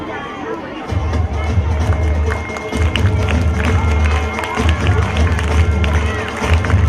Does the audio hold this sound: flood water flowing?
no